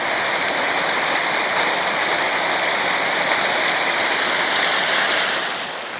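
Steady heavy rain pours down in a Himalayan valley, a dense, unbroken hiss that stays loud and close throughout before easing slightly at the end.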